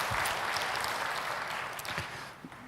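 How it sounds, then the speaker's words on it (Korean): Church congregation applauding together during a sermon, a dense, steady wash of clapping that stays fairly even and slightly distant, tapering a little toward the end, with no talk over it. "각자 여러분 자기를 위해서 박수 한번 해줘요"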